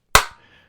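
A single awkward hand clap, one sharp close slap with a quick decay and a faint soft thud just after, alone in a quiet room.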